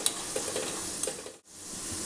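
Garlic and peanuts sizzle loudly in hot oil as a tempering for methi bhaji, with salt stirred in and a continuous crackling fry dipping briefly before resuming.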